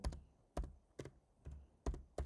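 Keystrokes on a computer keyboard, six separate presses or short bursts spaced unevenly over about two seconds, close and fairly quiet with no voices.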